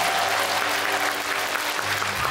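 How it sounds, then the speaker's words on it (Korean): Dense, continuous clapping from the audience at a joint Buddhist Enlightenment Day service, as monks from several temples are introduced, loud and even from start to end. "박수 부탁드리겠습니다"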